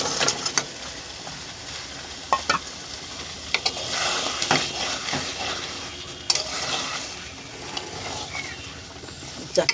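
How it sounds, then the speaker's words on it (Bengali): Fish and four prawns frying in a pan, giving a steady sizzle with intermittent stirring scrapes and knocks against the pan. "মাছগুলো দিয়ে দিলাম, এর মধ্যে 4টে চিংড়ি মাছও আছে।"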